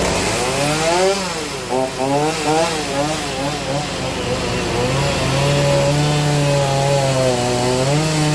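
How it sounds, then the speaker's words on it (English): Chainsaw biting into a big knot on a large cypress log at a sawmill, a steady loud buzzing whine with pitch sweeping up and down as the blade bogs and revs through the wood. "I'll have to roll it over and take a chainsaw and cut it off."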